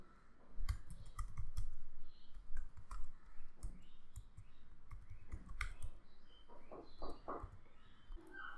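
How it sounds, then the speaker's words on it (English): Typing on a computer keyboard while entering an email address to recover a Microsoft account password, a steady run of close, crisp key clicks with brief pauses and a few louder bursts. "type in the email that you used for Microsoft account"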